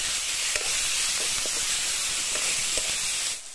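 Chopped tomatoes and green chilies frying in a hot pan, a steady loud sizzle with a few soft scrapes of stirring, no voices.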